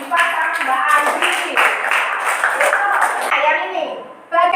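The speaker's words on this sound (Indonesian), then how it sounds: "Tepuk tangan untuk Mas Diva sama Mbak Andi" Students in a classroom clap for two classmates, a patter of hand claps running beneath a speaking voice before it drops away near the end.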